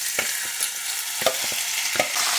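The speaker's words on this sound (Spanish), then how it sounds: "Ya el aceite ya está caliente. Vamos a freírlo." Pieces of chicken frying in hot oil for Salvadoran chicharrón for pupusas, giving a steady close bright sizzle with a few sharp crackles and pops scattered throughout, no voices.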